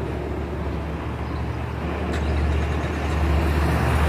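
2010 Chevrolet Camaro RS, remote started and idling: a steady low engine rumble that swells slightly toward the end, continuous and moderately close, with no voices.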